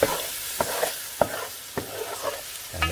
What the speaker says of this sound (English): Just gonna give that a bit of a stir.